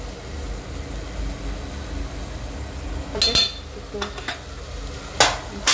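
Chicken biryani marinade stirred in a pan with chilli powder, turmeric and biryani masala: soft scraping strokes and a few clinking spoon hits against the pan, fairly close, in a quiet room.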